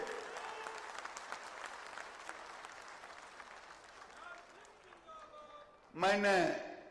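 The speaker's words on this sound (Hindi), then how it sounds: "ये तालियों की गड़गड़ाहट से इसका जवाब होनी चाहिए" A crowd at a political rally in Bihar claps in a faint, distant patter that thins out over several seconds. Then a voice on a loud, sharp call or shout briefly rises over it.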